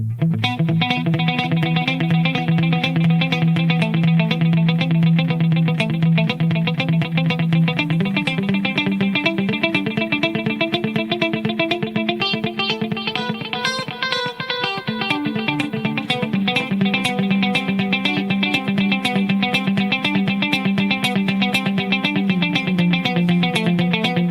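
Electric guitar plays sustained notes through a long delay, repeats stacking and trailing into a continuous wash of echoes.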